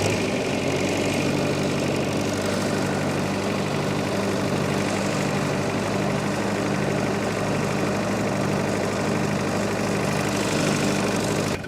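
A new ride-on lawn mower tractor engine idles steadily up close, a loud continuous mechanical drone with a low throbbing rumble that holds level throughout, with no talking.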